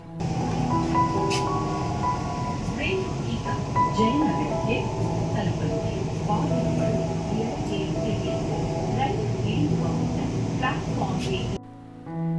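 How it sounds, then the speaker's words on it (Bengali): A metro train ride heard from inside the carriage: a loud, steady rumble and hum of the moving train runs continuously, with someone speaking over it until the noise drops at the end. "এই মেট্রো থেকে ভিউটা দেখো"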